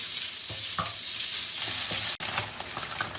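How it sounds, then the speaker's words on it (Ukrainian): Pork fat pieces frying in a little hot oil in a pan while being stirred into cracklings: a steady dense sizzle runs throughout, with soft scraping stir sounds and a brief dropout near the end. "Помішаючи, смажимо їх до шкварок."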